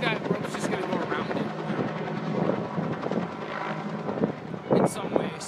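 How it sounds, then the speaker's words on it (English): A helicopter lifts off at a small airpark, its rotor wash producing a steady roaring, gusty rumble that rises toward the end, with people talking over it throughout. "So much wind going on underneath that helicopter."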